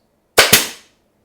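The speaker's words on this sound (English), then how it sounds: "squeeze that together, and shoot in a couple of 23 gauge pins" A pneumatic pin nailer drives two 23-gauge pins into cedar boards: two sharp, close snaps in quick succession with a short ringing tail, then silence.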